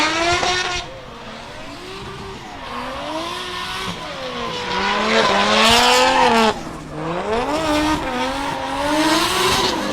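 Drift car with an RB engine at Meremere Drift Park, revving hard and bouncing off the rev limiter with wavering, stuttering engine notes and tire noise, loud and close throughout.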